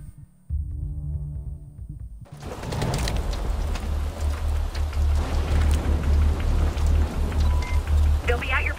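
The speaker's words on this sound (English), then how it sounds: "the rain is always like that." Rain in the stealth video game Splinter Cell Blacklist: a steady wash of falling rain over a low throbbing hum, beginning after a short quiet musical intro and continuing evenly throughout.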